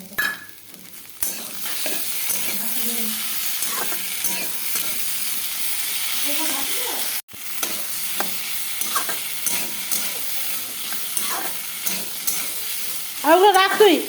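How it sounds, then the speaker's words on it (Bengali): Potatoes fry in a pan with cumin, turmeric, salt and chili powder, giving a steady close sizzle under repeated scraping stirs, with brief faint talk in the background. "এই যে আলুটা ভাজা ভাজা হয়ে আসছে দেখো।"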